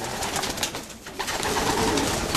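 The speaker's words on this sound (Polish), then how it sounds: "Tu zobaczmy, jak to wyglądają te gołębie." Racing pigeons coo steadily inside a loft housing Stenbergen-line birds, a dense chorus of overlapping soft throaty calls filling the space at close range with no talking.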